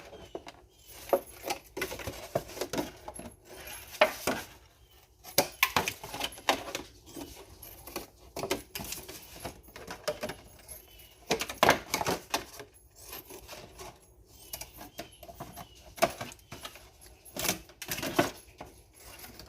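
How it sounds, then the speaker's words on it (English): Scissors snip around the edges of a plastic milk jug, a long run of close, irregular crunchy cuts and crinkling plastic with brief pauses between strokes. "Now I cut around the edges."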